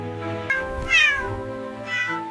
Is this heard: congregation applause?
no